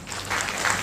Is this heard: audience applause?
yes